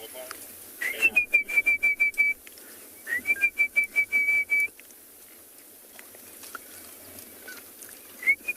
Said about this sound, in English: You can probably also just about hear the orange-breasted bushshrike calling